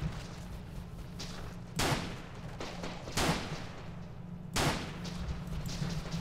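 Rifle fire at moving enemies in The Legend of Alfur: three loud, spaced single shots with sharp attacks and short decays over a steady low game hum.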